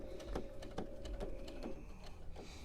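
A sewing machine stitches quilt binding with an edge joining foot, a steady rapid mechanical clatter of needle strokes running continuously at close range with no voices.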